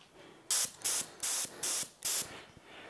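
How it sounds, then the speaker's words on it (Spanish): A spray gun fires white paint, thinned with solvent, onto a part of a Honda VFR750F RC36 motorcycle. Five short, even hissing bursts come close together with brief pauses between them, and no one speaks. "Pistola lista, la regulamos un poquito y a pintar"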